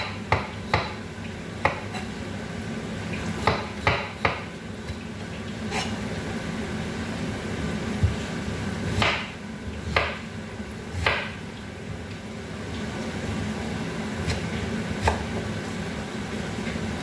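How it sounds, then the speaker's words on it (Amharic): A knife slices carrots into thin strips on a cutting board, giving sparse, irregular, crisp taps over a quiet kitchen background hum. "ካሮቱን ቀጫጭን አድርጌ መክተፍ አለብኝ።"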